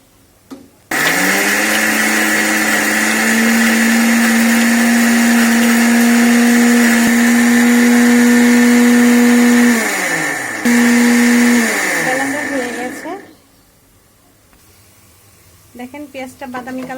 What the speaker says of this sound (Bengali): মশলাটাকে এখন ব্লেন্ডার